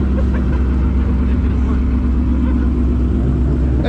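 A modified car's engine idles with a deep, steady rumble at a car meet. It sounds close and loud throughout, with a low throb holding level and some background talk.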